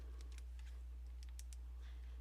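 Light, scattered taps on a calculator keypad during a fraction arithmetic problem, several quick clicks at irregular spacing, faint over a steady low hum.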